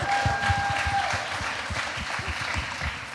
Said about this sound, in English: Let's give him a nice hand clap.